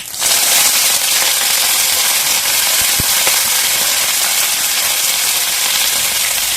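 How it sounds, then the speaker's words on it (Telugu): Curry leaves, garlic and dried red chillies hit hot tempering oil for a lentil and fenugreek-leaf curry, setting off a loud, dense, continuous sizzle that holds steady from the first moment without letup. "మనం తయారు చేసుకున్న అన్ని కరివేపాకు, వెల్లుల్లి, ఎండుమిర్చి, చూడండి పొనగంటాకు ఇవన్నీ కూడా వేసేసుకుందాం"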